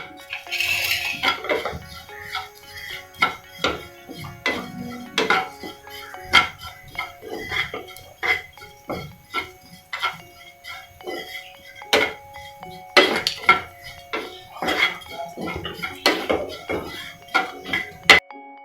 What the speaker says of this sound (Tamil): இப்போ ஓட்ஸ் வறுத்துக்கிறோம்.